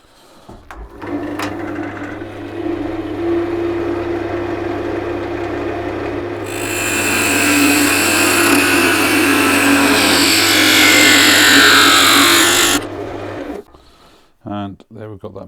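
A wood lathe whirs steadily, then a harsher, brighter cutting noise rises for several seconds as the tool parts off a segmented tea light workpiece, before the machine winds down.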